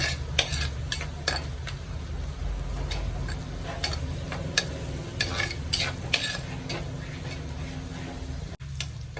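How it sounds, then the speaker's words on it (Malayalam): Ingredients for a sardine curry fry in hot oil with a soft continuous sizzle, while a spoon scrapes and taps against the pan in scattered, sharp strokes close by. "ഇത് നന്നായിട്ടൊന്ന് വഴട്ടാം. എണ്ണയിൽ കിടന്ന് മൊരിയുമ്പം നല്ലൊരു മണമായിരിക്കും"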